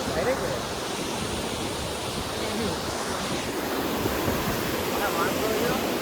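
Steady broadband rush of flood water flowing over farm fields after heavy rain, continuous and fairly loud, spreading across open ground, with faint wind noise.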